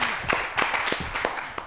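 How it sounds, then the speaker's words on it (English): Scattered applause from a small audience in a lecture hall, a handful of separate claps spread over about a second and a half, fairly quiet and loosest at the start. "applause to him."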